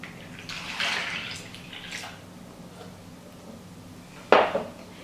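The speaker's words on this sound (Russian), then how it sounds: "берем мисочку и выливаем все наше молоко" Milk pours into a bowl for a fluffy baked omelette: a soft liquid gurgle and splash near the start, a quieter trickle, then a sharp clink of the bowl near the end, close and quiet, with no talking.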